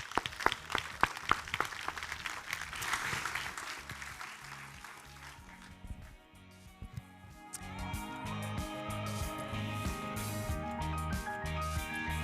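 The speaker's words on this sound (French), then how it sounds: "Vous l'applaudissez, s'il vous plaît." Audience applause at the 2022 Septuors awards ceremony in Haute-Garonne, starting with scattered sharp claps that build into a moderate wash, then fading as music rises and carries on underneath.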